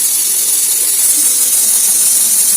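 Butter simmering slowly in a pan as it turns into ghee, giving a steady, continuous sizzling hiss that stays even throughout with no voices over it.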